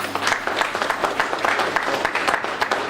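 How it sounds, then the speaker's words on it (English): A crowd applauds at a high school hospitality suite grand opening, a steady wash of many hands clapping that carries on throughout with a faint voice underneath. "give them a round of applause"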